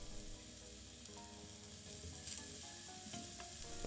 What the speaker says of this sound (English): you will roast your mushrooms with the nuts of butter